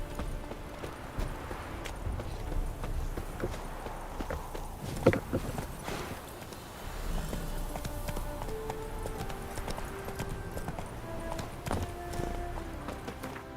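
Horse hooves clip-clop in the video game The Witcher 3, a steady walking rhythm of close, distinct hoof strikes running throughout, with faint game ambience and a few soft tones around them.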